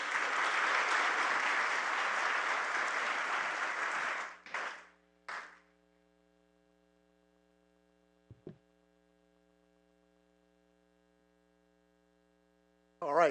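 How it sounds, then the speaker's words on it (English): Audience applause after a presentation at a fair housing civil rights summit, dense clapping for about four seconds that fades out, followed by a couple of final claps and a low electrical hum. "Can we give another round of applause also for us for that excellent, just an unbelievable presentation"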